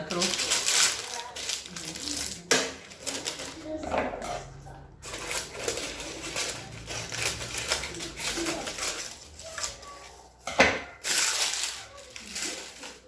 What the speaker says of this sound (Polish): Papier do pieczenia wyłożony